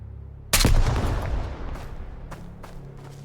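A single loud gunshot rings out in the survival shooter Road to Vostok, followed by a decaying rumble and a few fainter, distant cracks trailing off.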